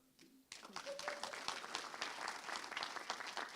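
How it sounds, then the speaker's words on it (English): A conference audience at a programming talk bursts into applause after a brief quiet moment, a steady, fairly distant patter of many hands that continues to the end. "please applaud especially for Go"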